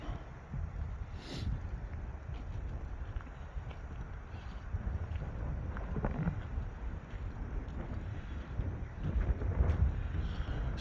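Chilly morning wind at the London Bridge rock formation, rushing steadily across the microphone with gusts that build near the end, plus a few faint scattered knocks in the background.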